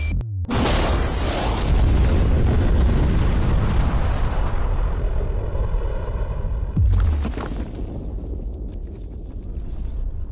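A huge blast of bombs packed around a safe erupts in a deep, roaring boom that rumbles on for seconds. A second sharp burst follows before the noise fades into a lower rumble.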